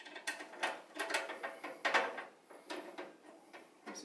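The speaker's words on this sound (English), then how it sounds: "we'll put the screws back into the radiator" Screws being driven back into an AIO liquid-cooler radiator to hold it in place, giving a close, quiet run of clicking, ratcheting turns in short uneven bursts with no talk.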